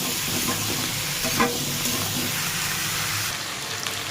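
Hilsa fish head fries in hot oil for a Malabar spinach curry, a loud, dense, continuous sizzle close up with a faint thump midway.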